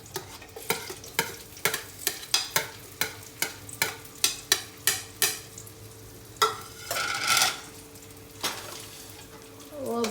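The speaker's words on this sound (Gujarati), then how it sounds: "હવે એમાં આનો વઘાર કરશું આપણે પણ ગરમ તો થતું તેલ" Spices tempered in hot oil for Maggi noodles: a steady run of rhythmic scraping stirs in a pan, then a brief burst of sizzling as the oil spatters, with a voice talking quietly.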